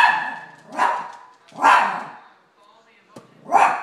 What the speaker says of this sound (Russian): нельзя лаять, нельзя